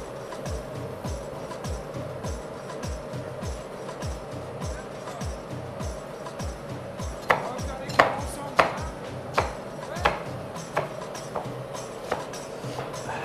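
Knife chopping an onion on a cutting board while a Moroccan kofta tajine is prepared, a steady run of sharp, close taps that grow louder and more spaced toward the end, with faint talk in the background.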